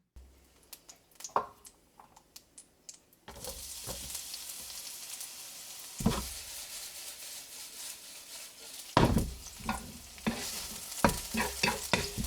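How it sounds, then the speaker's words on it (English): An omelet cooks in a pan, starting with light scraping stirs, then a steady sizzle beneath repeated close spatula strokes and clatters. "This is me cooking an omelet when I realized that I had forgotten an ingredient."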